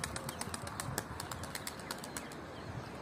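A young tumbler pigeon lifted into flight beats its wings in a rapid, rhythmic run of close flaps lasting about three seconds.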